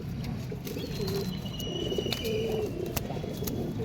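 Pigeons, including a purple-footed bird among those offered for sale, coo softly in low repeated murmurs, with faint chirps and steady background noise around them.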